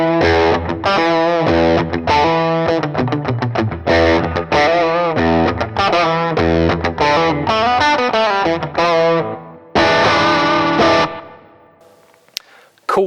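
Electric guitar played through a Fractal amp modeler preset with no adjustments gives a distorted, chorused tone. Chords and riffs ring out loud and alone, then stop abruptly and fade out near the end.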